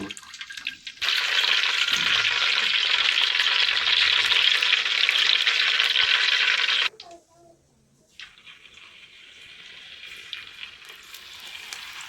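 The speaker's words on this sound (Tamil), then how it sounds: "எப்படி பொறிஞ்சு கொண்டு வருதுன்னு பாருங்க" Cassava pieces frying crisp in oil: a loud, hissing sizzle holds steady for several seconds, then cuts off abruptly and gives way to a much quieter, softer bubbling.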